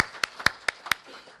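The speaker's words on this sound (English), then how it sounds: "Can I have a round of applause for all of us attending this session?" Four sharp hand claps at a conference session, evenly spaced, close and crisp, standing alone with a faint room tone between them.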